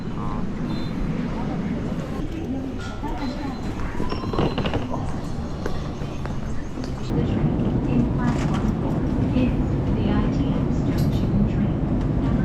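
Electric commuter train on the Gyeongui-Jungang line bound for Chuncheon, a steady rumble of rolling wheels and motor hum that grows slightly louder partway through, with a station announcement voice over it.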